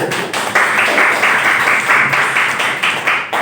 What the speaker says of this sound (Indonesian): kita beri tepuk tangan untuk kelompoknya